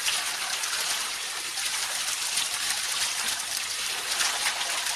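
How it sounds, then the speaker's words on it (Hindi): Water poured repeatedly over the head during a bath gushes and splashes in a steady, continuous wash, close and fairly loud, with no talking. "सिर पर पानी डालने के बाद में आप थोड़ी देर इस तरीके से सिर पर पानी डालते जाए"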